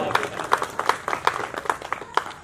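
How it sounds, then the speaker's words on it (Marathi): Audience at a district-level elocution competition prize ceremony clapping to welcome a guest, with sharp claps repeating at a steady rhythm over a low crowd murmur. "एकदा शरद लोखंडे सरांसाठी सर्वांनी जोरात टाळ्या वाजवून स्वागत करावं"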